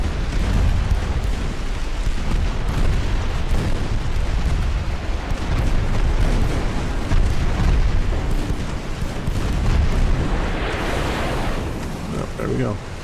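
A torpedo detonates against a warship in the naval battle game Ultimate Admiral Dreadnoughts, giving a loud, deep boom and rumble with a surf-like wash. A short burst of bright spray follows near the end.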